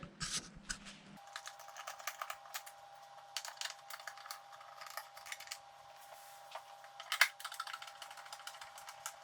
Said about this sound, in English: T25 torque bit to remove them. So let's get those unscrewed